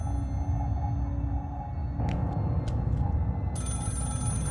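A telephone ringing in the horror game Scream: The Game, heard as a steady electronic ring that starts mid-clip with brief bursts, then switches to a sustained, louder ringing tone over a low droning background.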